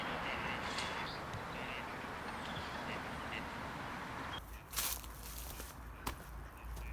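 A duck quacks outdoors by a pond where swans are nesting, faint calls over steady ambient noise with a couple of louder bursts near the end.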